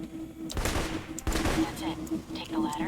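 Rifle fire in the video game Alpha Protocol, a few sharp bursts of gunshots cracking out over a steady low game hum, with faint voices mixed underneath.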